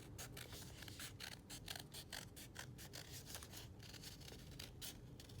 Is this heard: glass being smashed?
no